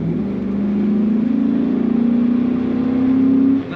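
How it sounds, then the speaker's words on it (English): A 2003 Chevrolet SSR roadster pickup gives off a steady, throaty rumble from its exhaust, rising slightly in pitch as it pulls, with no voices over it, then dropping off abruptly at the end. "Nice rumble coming out the exhaust pipe on this."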